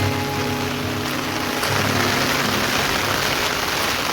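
Heavy rain pours down in a dense, constant roar of drops hitting surfaces, loud and unbroken throughout.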